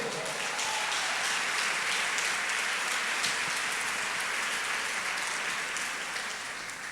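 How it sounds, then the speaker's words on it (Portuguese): Church congregation applauding during a worship service, a dense, steady wash of many hands clapping that holds evenly for several seconds at moderate distance. "Agora você pode aplaudir o Senhor."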